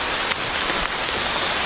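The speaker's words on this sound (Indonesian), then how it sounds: "hujan deras sekali guys." Heavy rain pours down outdoors in a dense, loud, continuous hiss with no breaks.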